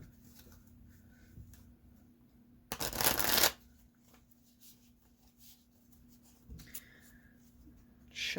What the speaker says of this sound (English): I'm gonna riffle shuffle off camera.